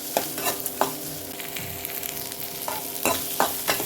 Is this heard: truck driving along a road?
no